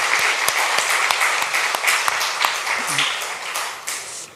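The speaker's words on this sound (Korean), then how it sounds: "우리 감사의 마음을 담아서 박수를 좀 보내주시기 바랍니다." A church congregation applauds during a dedication service, dense steady clapping from many hands filling the room, with a few louder individual claps standing out and some faint voices underneath.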